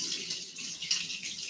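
Warm water runs steadily from a tap as hands are wet for washing, a close, continuous hissing splash with no talking.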